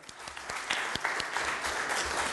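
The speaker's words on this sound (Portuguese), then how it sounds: "Uma salva de palmas" Audience applause as a doctor is welcomed on stage at an air medical services talk, dense clapping from a crowd building slightly in loudness, with a few sharper claps standing out.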